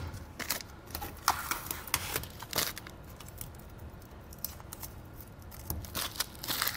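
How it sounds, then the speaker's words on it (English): Plastic wrapping being peeled and pulled off new Mud Skins mud flaps fitted to a 2012 Ram 1500 truck produces close, irregular crinkles and sharp tearing rustles that come and go for several seconds. "we can go ahead and remove our plastic wrapping here"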